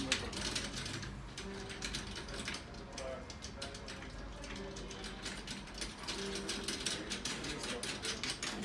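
A hand ratchet tightening the hardware on a junior children's drum kit gives a continuous close, rapid clicking and grinding with short rhythmic bursts, while someone speaks Spanish quietly underneath.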